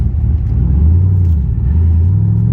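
A 2006 Pontiac GTO fitted with a Tick Performance clutch master cylinder revs loud and close during quick gear changes, its deep engine note dipping and climbing between shifts.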